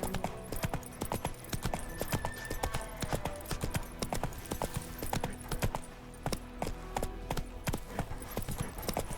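A horse gallops in The Witcher 3 video game, with rapid, rhythmic hoofbeats pounding continuously at close range over a busy game soundtrack.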